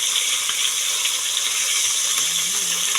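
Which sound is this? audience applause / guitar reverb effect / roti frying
roti frying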